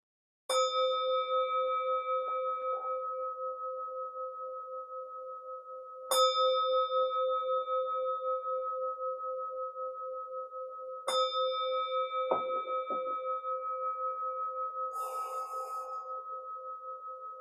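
A small meditation bell is struck three times at even intervals, each clear ring sustaining and slowly fading in a quiet room, followed by a faint rustle.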